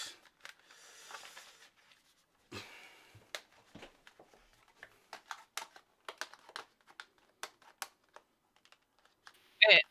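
Scattered sharp key clicks are typed on a Corsair Strafe keyboard, sparse and irregular with quiet gaps. Faint rustling comes early on and a louder burst at the end.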